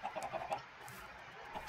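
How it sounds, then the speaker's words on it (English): Chickens clucking in the Minecraft video game, a few short soft clucks repeating over a quiet background with no talk. "I don't like those noises. Oh, chickens."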